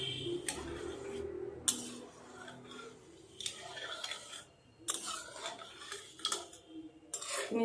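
A utensil stirs sugar syrup in a pan for sweet singara, with intermittent scraping and clinking strokes against the metal, close by, in irregular bursts with quieter gaps between.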